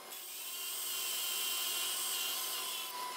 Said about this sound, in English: I cut the cheeks of both the upper and lower stretchers at the bandsaw